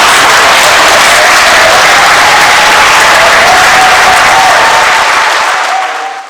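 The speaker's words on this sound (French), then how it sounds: "manifestez-le en applaudissant très fort maman." Loud, sustained applause from mourners at a funeral gathering, a thick wash of clapping that holds strong and then fades out abruptly at the end.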